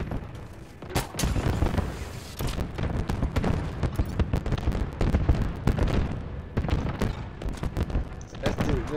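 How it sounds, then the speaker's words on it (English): Dense bursts of booming explosions and rapid gunfire pile up continuously, loud and chaotic, in a Halo Infinite multiplayer battle. "That's literally explosions everywhere."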